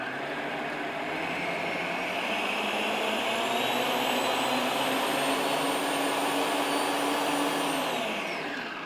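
An electric mixer whirs steadily through buttercream, a loud, close, continuous motor drone that rises and holds before winding down at the end.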